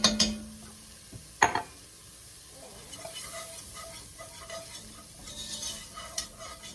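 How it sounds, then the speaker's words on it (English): Flour is stirred into vegetables sizzling in a soup pot, giving a steady close scraping and soft frying hiss, opened by a couple of sharp utensil knocks against the pot. "start stirring it so the flour doesn't burn"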